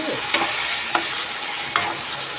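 Vegetables sauté in oil with a steady close sizzle, broken by three distinct stirring scrapes of a spoon against the pan.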